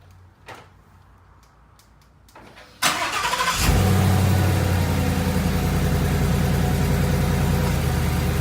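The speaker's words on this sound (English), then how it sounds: "let's fire up the car" A 2016 Ford Mustang with a Coyote V8 cranks and fires after a few quiet clicks, then settles into a loud, steady, close-up idle with a deep, even rumble.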